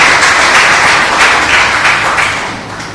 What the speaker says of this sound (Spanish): Denle un aplauso al Dios del cielo